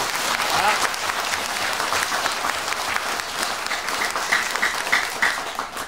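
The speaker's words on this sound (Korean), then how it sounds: "큰 격려와 감사의 박수 드립니다." A church congregation applauds the choir and ensemble during a Sunday worship service, a dense, sustained wash of many hands clapping that fills the room evenly throughout.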